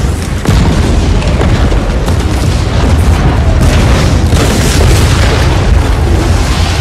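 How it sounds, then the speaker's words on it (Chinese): A war-film air strike destroys a Taliban frontline position: a huge, loud explosion bursts in and then keeps up a heavy, continuous rumble and roar for several seconds. "他们身后出现了巨大的爆炸声，塔利班武装的前线阵地被摧毁"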